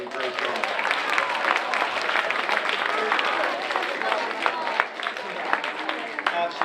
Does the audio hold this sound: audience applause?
yes